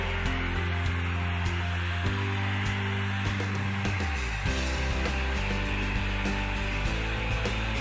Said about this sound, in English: If we were to reheat the film using a heat gun, you can see how the film would relax into its original form.